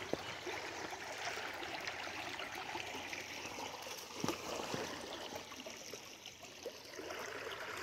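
Creek water flows steadily along a streamside walkway, a constant broad rushing wash with small trickles and splashes, close and continuous with no talking.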